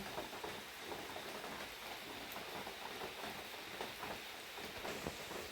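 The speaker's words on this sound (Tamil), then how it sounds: "ஆனால் செம்ம மழை." Heavy rain in a Ugandan rainforest, a dense steady broadband hiss of downpour with scattered drop patters, continuous and fairly faint with no voices.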